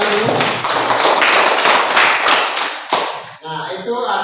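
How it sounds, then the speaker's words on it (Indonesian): Hands clapping together in a classroom lesson, a dense burst of close claps for about three seconds that then fades out, with voices following. "Mari tepuk tangan untuk kita saling."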